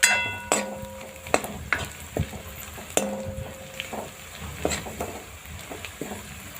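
Onion frying in a pan for a Gujarati dal tadka with garlic, with a spoon stirring and clinking against the pan in scattered sharp knocks over a steady low sizzle, close by and with no one talking.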